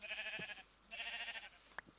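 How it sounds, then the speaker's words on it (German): A grey-wooled sheep in Minecraft bleats twice in quick succession, each call short and wavering, followed by a few faint clicks in an otherwise quiet scene. "hier ist ein Schaf mit grauer Wolle"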